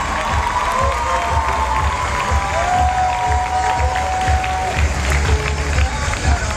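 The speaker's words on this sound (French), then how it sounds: "On applaudit José, le représentant ECG saison 4 solo pour la Suisse." A crowd at a dance contest selection event in France cheers and applauds a solo contestant representing Switzerland, a steady dense roar of clapping and shouts with a faint voice rising over it.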